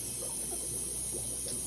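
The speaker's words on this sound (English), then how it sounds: "put in another 5 gallons to fill it back up with water from existing older Angel tanks" Water pours into a fish tank for angelfish in a steady, even rush, a moderate continuous flow with faint bubbling and a high hiss, no voices.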